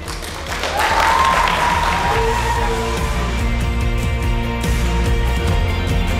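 Wedding guests applaud a newly married couple right after the pronouncement, a loud, dense, sustained clapping that fills the room, with a brief whistle or cheer rising through it.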